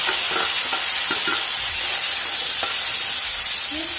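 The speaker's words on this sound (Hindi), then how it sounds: "ये सिजलिंग साउंड ना" Cumin, garlic, a pinch of hing, tomato and onion sizzling in a hot pan at home, a loud dense hiss throughout with a few faint stirring knocks early on.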